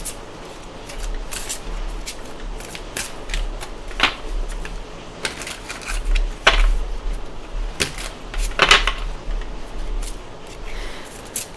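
Close, continuous riffling and snapping of cards, with crisp clicks and sharper flicks scattered throughout, no voices.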